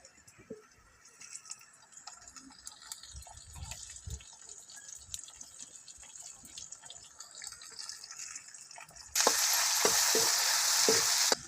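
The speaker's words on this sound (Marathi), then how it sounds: "आता कांदा छान लाल तळलाय टमाटर टाकून घ्या" Onion and tomatoes fry in a pan over a wood-fired stove, a steady soft sizzle with scattered stirring taps, then a sudden loud, dense hiss near the end as the tomatoes hit the hot oil.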